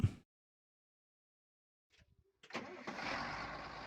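A video game tractor engine cranks over after a brief silence and catches, settling into a steady, loud running rumble.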